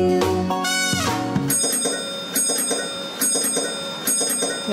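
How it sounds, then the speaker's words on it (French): A bright bell rings repeatedly in a children's song about a bus bell, with sustained ringing tones and several struck dings over a musical backing, and no voice present. "La cloche de l'autobus fait ding ding ding"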